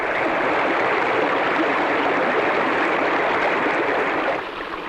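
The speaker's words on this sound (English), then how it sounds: "Where the wandering water gushes from the hills above Glencar" Water gushes from the hills above Glencar, a waterfall pouring down the hillside as a dense, continuous rushing roar that holds steady, then eases slightly near the end.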